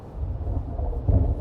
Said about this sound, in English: Whoa, thunder.